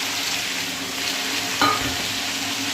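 Boiled elephant foot yam tipped into hot frying spice masala in a pan, giving a steady sizzle with one brief louder clatter and splash as it lands.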